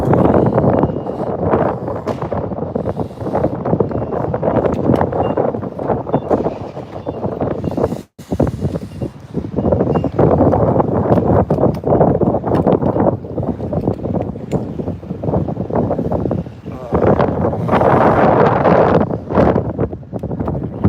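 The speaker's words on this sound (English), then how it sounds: "like the wind is super strong" Loud, constant wind buffeting the microphone with a deep rumble, one brief dropout partway through, no voices.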